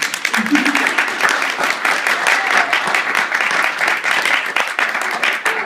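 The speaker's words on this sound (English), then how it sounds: "by show of applause, let's hear it for Danglers" Lively audience applause and cheering for a team at a camp game show, dense clapping with scattered voices, loud and continuous for several seconds.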